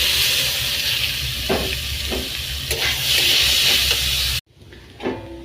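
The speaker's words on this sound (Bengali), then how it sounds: "ক্যারি পাতাগুলো ভাজা ভাজা হয়ে এলে এবার চিড়াটা দিয়ে দেবো।" Curry leaves, dried chillies and flattened rice sizzle in hot oil in a pan, a dense continuous frying hiss with light stirring knocks, then a sudden drop to quieter crackling near the end.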